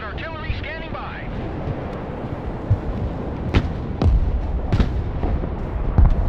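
Rocket artillery striking in a video game, a run of sharp blasts and whooshes about a second apart over a rumbling battle backdrop, with a speaking voice running underneath.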